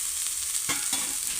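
Vegetables for pàko with eggs sizzle in a hot pan as a utensil stirs them, a steady frying hiss broken by a couple of quick scraping stirs, close and brief.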